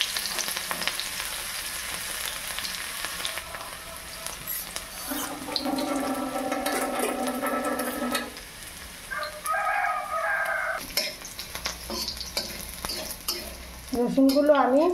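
Crushed garlic frying in about two spoons of oil sizzles steadily with frequent stirring scrapes, while a rooster crows a couple of times in the background.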